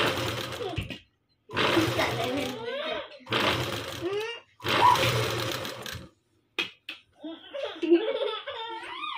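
A motor-driven sewing machine stitches in several short whirring bursts separated by pauses, with voices and laughter between the runs.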